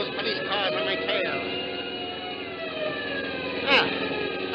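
Wailing police car sirens rising and falling continuously in an old-time radio drama, loud and steady throughout, with a short sharp burst of noise near the end.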